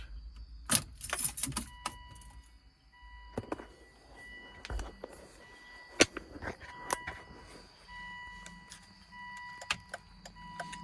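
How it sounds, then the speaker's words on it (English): Car keys for a Volvo jangle in bursts, close and fairly loud, with intermittent clicks and a steady electronic chime tone running through the quieter stretches. "Let me see if I have my keys."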